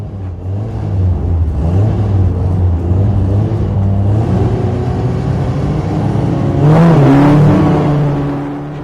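A Formula Ford race car drives out for a race, its engine droning close and loud with shifting pitch, then revving up sharply toward the end before easing off.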